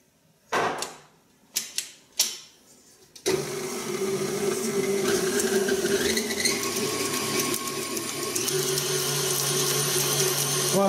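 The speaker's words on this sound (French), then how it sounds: "je descends le batteur, et nous allons faire blanchir avec le sucre" A few light taps and knocks come first, then an electric hand mixer starts up loudly and whirs steadily while beating madeleine batter with sugar. Its pitch shifts and it slows toward the end.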